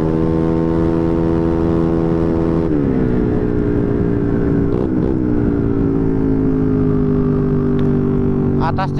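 A Honda Beat ESP 125cc motorcycle fitted with an Empush EM1 round exhaust drones steadily up close, dipping in pitch partway through and shifting its revs near the end.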